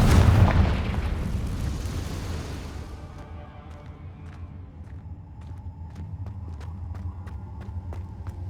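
A Confringo fire spell in Hogwarts Legacy lands with a loud, close booming explosion that rumbles and fades over a few seconds, followed by quieter crackling and sharp ticking pops.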